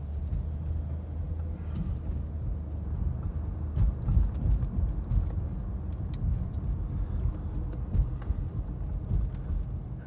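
Inside a 1987 Mercedes-Benz 300E on a neighborhood drive, a low steady engine and road rumble continues throughout, with faint scattered ticks and rattles above it.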